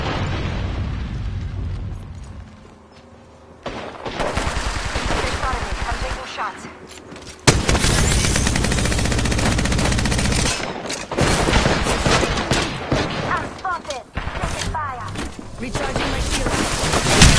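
Gunfire in the shooter game Apex Legends, bursts of automatic fire and heavy booms coming in loud and close, with brief lulls between dense volleys and a sharp blast partway through.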